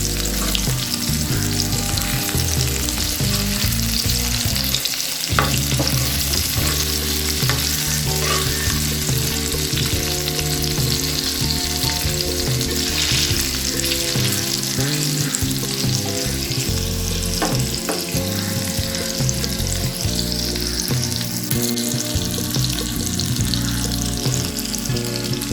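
Seer fish (surmai) fries slowly on low heat, a dense, continuous sizzle and crackle that stays steady throughout, with a faint tonal hum underneath.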